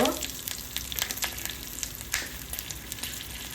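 Tadka of mustard seeds, cumin, a chili and asafoetida frying in hot oil, a close, continuous sizzle with crackling pops and small bursts of spattering.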